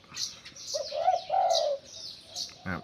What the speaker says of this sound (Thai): วันนี้เราจะมาแนะนำนกต่อหลิวตันกันสักหนึ่งตัวนะครับ